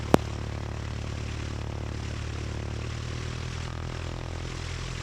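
Grumman Tiger light single-engine propeller plane heard from inside the cabin, a steady loud engine drone filling the whole stretch, with a brief sharp click at the start and no voices.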